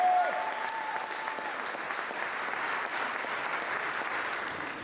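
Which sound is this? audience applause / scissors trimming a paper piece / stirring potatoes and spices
audience applause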